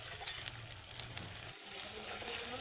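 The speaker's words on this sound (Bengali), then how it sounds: "এগুলো আগে যদি তেলে ভাজা ভাজা হয়ে যায় তাহলে মশলার স্বাদটাও আলাদা আসবে, তাই একটু ভাজা ভাজা হয়ে যাক।" Whole spices and tomato frying in oil for a pointed gourd and prawn curry, a steady close sizzle and crackle with faint stirring, no voices.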